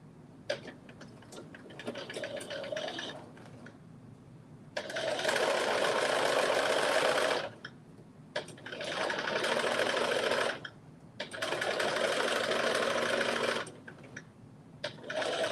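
A sewing machine stitches an understitch in bursts of rapid, steady whirring, three long runs separated by short pauses, with a few brief taps and clicks before the first run.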